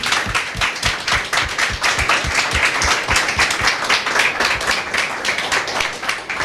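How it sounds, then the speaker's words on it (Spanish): A church congregation claps for Christ in a Spanish-language service, steady, loud, fairly rhythmic applause filling the whole stretch with no talk over it. "Dele un aplauso por favor a Él."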